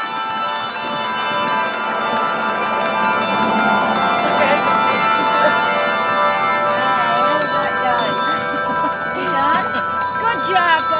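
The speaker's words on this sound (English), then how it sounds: "Nice to see Santa come out to ring his bell." A church bell at Ontario Immanuel rings steadily for the Wayne County, New York bicentennial, a sustained ringing wash with overlapping tones that continues throughout while people chat nearby.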